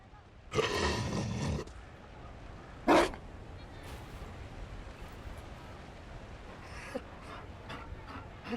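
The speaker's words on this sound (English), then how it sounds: "You found a dog." Mabari dog in the video game Dragon Age: Inquisition, a low rough growl lasting about a second followed by a short whimpering yelp, close and moderately loud, with faint ambience and quiet sounds afterward.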